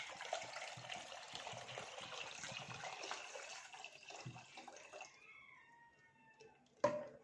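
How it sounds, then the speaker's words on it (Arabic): Water pours steadily into a pot for several seconds with a splashing, filling sound, then tapers off, followed by a brief clatter near the end. "نحط شويه ميه"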